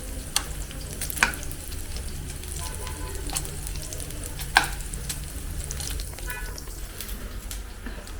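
Paneer roasts in a pan for palak paneer with a steady, soft sizzle as a spoon turns the cubes, adding a few sharp scrapes and clinks against the metal.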